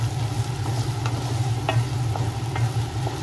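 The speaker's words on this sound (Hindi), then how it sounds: "थोड़ी देर ऐसे भूनिए।" Mutton with black pepper stir-frying in a pan gives a soft, steady sizzle, broken by faint scraping stirs at close range. No voices.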